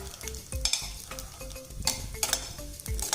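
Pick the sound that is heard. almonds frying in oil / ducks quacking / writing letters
almonds frying in oil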